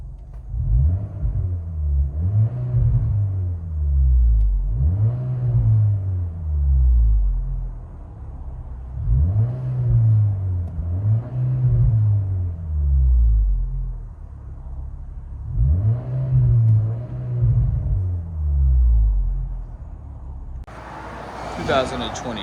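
A 2020 Chevy Malibu with Netami turbo resonators and Vibrant bottle resonators, heard from inside the cabin as a loud, deep exhaust drone rising and falling in repeated revving swells, ending in a brief burst of noise.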